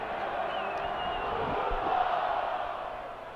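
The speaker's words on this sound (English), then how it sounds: "Crowd getting louder here in the final moments" A stadium crowd roars during the closing moments of a Sacramento Republic FC soccer match. The roar is steady and distant and builds slightly in the middle, with no clear voices standing out.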